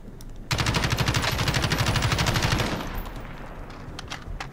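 A rapid, continuous burst of automatic gunfire from a first-person shooter game runs for about two seconds, loud and close, then tails off into fainter scattered shots.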